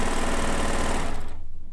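A Baby Lock cover stitch sewing machine runs with a loud, fast, buzzing whir that winds down and drops away toward the end of the short burst.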